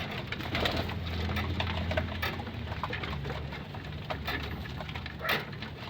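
Pigeons coo softly in a loft, low repeated coos rising and falling against a steady patter like light rain, with no voices.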